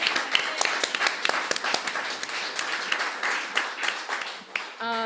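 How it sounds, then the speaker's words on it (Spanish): Audience applause after a church talk, a scattered clapping of moderate loudness that runs for about five seconds before a brief tonal sound cuts in at the end. "un fuerte aplauso al intérprete."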